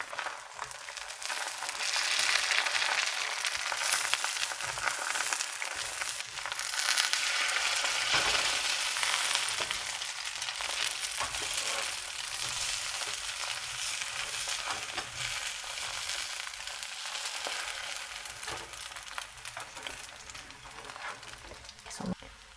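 Egg whites fry in a hot pan with a dense, rain-like sizzle that lasts throughout. Occasional scrapes of a spatula pushing the edges can be heard, close up and with no talk.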